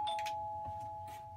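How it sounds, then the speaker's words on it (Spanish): Doorbell rings with a clear ding-dong chime, one steady electronic tone held for over a second at moderate loudness, with no other sound around it. "El timbre sonó"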